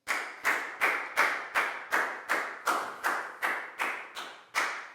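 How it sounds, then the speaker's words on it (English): A schoolroom of pupils clapping for a classmate in a maths lesson, heard as a dozen slow, evenly spaced loud claps in unison, each with a short decay, with no talking. "a big round of applause for Prow"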